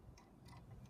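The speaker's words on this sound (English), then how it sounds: "this particular torque wrench is what they call a click torque wrench, and it clicks when it has achieved the right torque" A click-type torque wrench reaches its set torque, giving a few faint, sharp clicks close by against a quiet low hum, with no voices.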